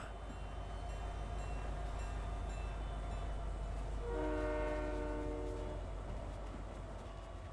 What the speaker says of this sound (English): No point in riding the train now.